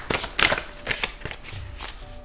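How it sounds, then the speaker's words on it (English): Tarot cards being shuffled by hand in a series of quick papery riffles and slaps, close and fairly loud, with no talking. "I shuffle the cards"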